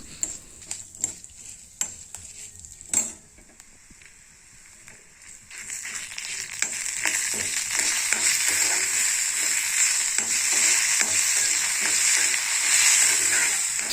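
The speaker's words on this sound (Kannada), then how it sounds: "ಮಸಾಲ ಐಟಮ್ಸು ಇಷ್ಟು ಹಾಕಿ ಕರಿಬೇವನ್ನು ಹಾಕಿ ಚೆನ್ನಾಗಿ ಫ್ರೈ ಮಾಡಿ" Spices and curry leaves fry for a Mangalore cucumber and jackfruit seed sambar, a few spoon taps and clatters giving way to a rising, steady crackling sizzle once they hit the oil.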